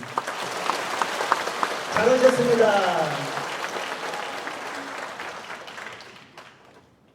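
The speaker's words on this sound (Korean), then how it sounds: "힘차게 박수" A church congregation at a Sunday morning service applauds warmly, a dense wash of clapping that swells and then gradually fades, while a pastor speaks over it.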